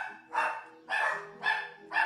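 Female dogs bark in four close, loud, evenly spaced barks, one after another, with no voices over them.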